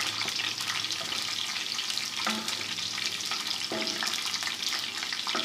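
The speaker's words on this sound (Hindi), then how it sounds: "आस्ता आस्ता ये फ्राई हो रही है चर्बी, घी हमारा गर्म हो चुका है। हम इसमें डाल रहे हैं लहसुन" Chopped garlic frying in hot ghee and rendered fat for tawa-fried mutton liver, a steady close, loud sizzle with light clinks and stirring scrapes throughout, no voices.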